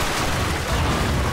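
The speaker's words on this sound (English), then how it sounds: "Oh, yeah, explosion." A loud, dense explosion roars through a scene in the video game Stranglehold, a sustained broadband blast filling the whole short stretch with no clear pauses.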